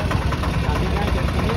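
A motorbike engine runs with a steady, dense rumble and rush of noise, continuous and loud throughout without clear breaks.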